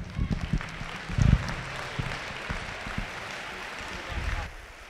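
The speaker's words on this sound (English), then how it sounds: "thank you guys so much for giving her a round of applause" Audience applause at a FIRST robotics competition opening ceremony in Auburn, a fairly faint, diffuse clapping with a few louder thumps, with voices in the hall.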